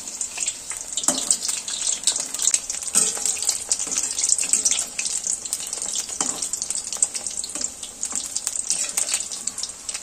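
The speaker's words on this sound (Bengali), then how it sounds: "এগুলো একে একে দিয়ে আমি ভাজবো" Mung dal puli frying in hot white oil in a wok over a low flame, giving a steady, close crackling sizzle with small pops throughout and no voices.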